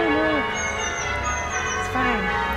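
Church bells at St Mark's, Longwood ring Bob Triples, heard outdoors at a moderate distance as steady overlapping tolling tones over a continuous background hum.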